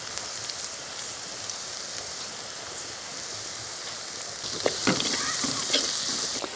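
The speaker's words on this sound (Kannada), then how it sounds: "ಎಣ್ಣೆಗೆ ಕೊಚ್ಚಿಟ್ಟಂತಹ ನೀರುಳ್ಳಿ, ಸ್ವಲ್ಪ ಅರಸೆ ನೋಡಿ, ಒಗ್ಗರಣೆ ಮಾಡುವಾಗಲೇ ಹಾಕಿಕೊಳ್ಳೋದು" Chopped onion sizzles in hot oil for a tempering while cooking poha, a steady faint crackle that grows brighter and more spattery near the end, with no talking.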